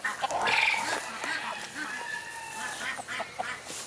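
Farmyard fowl including Black Copper Marans and Ameraucana chickens calling close by, a few honking, squawking cries over a steady outdoor background, with a voice faintly present.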